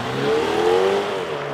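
A BMW M135i hatchback drives along an open road, its engine note rising and easing briefly under steady road and tyre noise, close and fairly loud.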